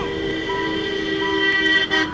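A vehicle horn sounds during a road ride in traffic, a steady, loud toot with layered tones held over the whole stretch alongside passing vehicle noise.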